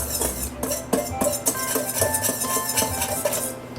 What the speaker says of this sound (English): I'm going to put those all together and just kind of use my whisk to combine them